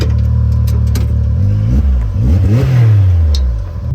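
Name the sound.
Can-Am Maverick X3 side-by-side engine idling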